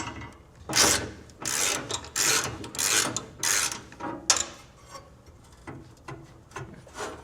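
Close ratchet clicking in repeated bursts as a 15mm socket loosens a bracket bolt on a 2026 Chevrolet Colorado during a trailer hitch install, with metallic rasping and short pauses between strokes, no talking.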